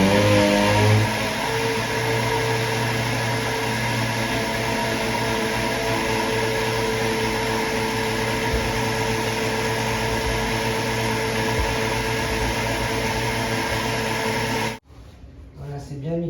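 A blender whirs loudly and steadily as it mixes flour and milk into crêpe batter for about fifteen seconds, then cuts off abruptly.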